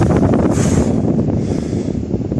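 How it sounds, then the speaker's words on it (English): Strong wind buffets the top of a fire tower on the Appalachian Trail, a loud, low rumbling roar with gusty swells and microphone buffeting that eases slightly toward the end. "It's so windy."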